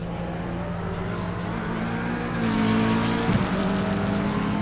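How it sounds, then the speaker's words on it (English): A race car in a PC VR sim racing game at the Imola circuit drives past under a yellow flag. Its steady engine drone swells as it draws near and goes by, with a brief tire squeal at the peak. "Let this car go by."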